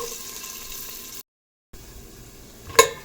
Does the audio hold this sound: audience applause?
no